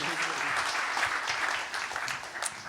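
An audience applauds at an awards ceremony, with dense, steady clapping that sustains for about three seconds at a moderate distance and no clear voices over it.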